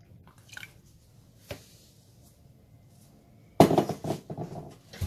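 Roughly 500 ml of milk goes into crepe batter, a faint quiet stretch with a couple of small knocks, then a louder wet splashing pour near the end.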